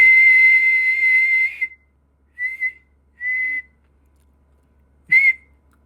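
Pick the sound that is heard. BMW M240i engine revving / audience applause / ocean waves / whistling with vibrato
whistling with vibrato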